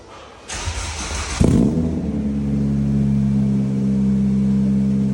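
A Honda Jazz Type R with a new exhaust cranks briefly, then fires with a loud roar and settles into a deep, steady rumbling idle close by.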